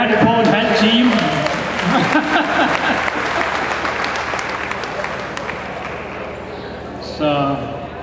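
Audience applause for a runner finishing the Banko og Sparekassen Østjyllandløbet road race, steady broadband clapping throughout with voices talking over it and a brief louder burst near the end.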